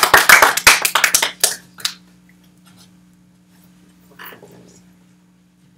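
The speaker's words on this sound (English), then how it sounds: "You can give him a nice round of applause then." Short burst of hand claps from a small group, a dozen or so sharp claps in the first two seconds that quickly die away, leaving a steady low hum and a faint brief rustle later.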